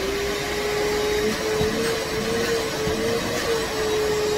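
A Craftsman 3HP shop vacuum runs steadily up close, a constant whining motor hum with airy rushing noise and no breaks.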